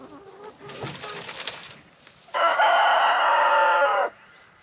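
Bantam hens cluck in bursts at first, then a loud rooster crow rings out close by for nearly two seconds before the yard falls quiet.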